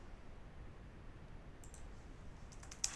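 A computer mouse clicks faintly a few times in quick succession against a quiet room hiss, the last click sharper and louder.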